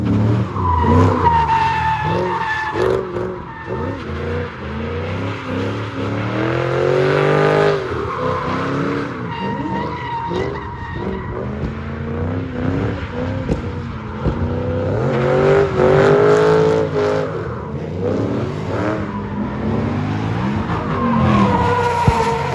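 A car drifts at a drift event, its tires squealing loudly and continuously while the engine revs and howls through repeated slides, close and without talk.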